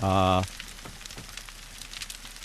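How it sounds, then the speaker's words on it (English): Rain falls in the survival video game No One Survived, a steady, fairly soft hiss of drops on surfaces that carries on throughout after a short, loud tonal sound at the very start. "it started raining. Oh, it is raining."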